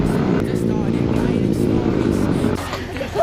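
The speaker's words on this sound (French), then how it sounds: "Montez le scooter." A scooter engine drones loud and close on a Bali road, a steady rough motor note with a brief shift in tone near the end, while voices talk over it.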